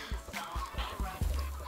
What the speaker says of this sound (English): Oh my gosh, there's black chickens.